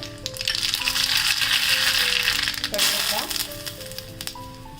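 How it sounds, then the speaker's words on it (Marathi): Mustard seeds hit hot oil as a chutney tempering begins, giving a loud, steady sizzling hiss with crackles throughout, while faint tonal notes sound in the background. "त्यासाठी मी तेल गरम करून घेतलेलं आहे त्याच्यात मोहरी घालते"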